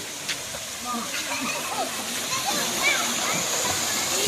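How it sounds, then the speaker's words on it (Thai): Children splash and play in a pool at a paid swimming spot on a hot day, steady watery hiss and splatter with scattered kids' voices and shouts throughout. "นี่ครับเล่นน้ำกันโอ้อากาศร้อนๆงี้เล่นน้ำสบาย"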